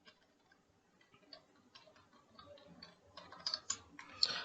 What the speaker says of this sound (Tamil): ஸோ நான் பாஸ்வேர்டு டைப் பண்ணிவிட்டேன்.